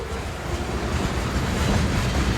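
A mixed freight train on the Iowa Northern line rolls past close by, a continuous heavy low rumble with rattling wagons and faint wheel noise, steady and building slightly.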